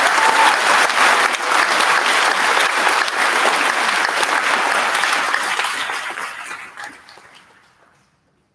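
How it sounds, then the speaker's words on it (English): Eighth-grade students at a 2022 graduation ceremony give their teachers a sustained round of applause, a dense wash of clapping filling the room for several seconds before thinning out and fading to silence. "I'd like for the 8th grade students to give your teachers a big round of applause"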